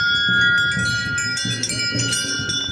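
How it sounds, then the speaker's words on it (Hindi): Several small temple bells ring and shimmer continuously with sustained high tones, over a busy background of crowd murmur and people talking. "मन को बड़ा सुकून मिल रहा है इन घंटियों की आवाज़ से।"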